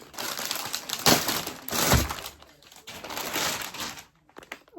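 Crinkly plastic zip bag rustles and crackles up close in uneven bursts as it is opened to reveal bootcut leggings, with a couple of sharper crunches and quieter handling in between.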